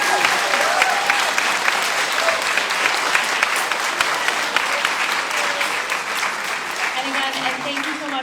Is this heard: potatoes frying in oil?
no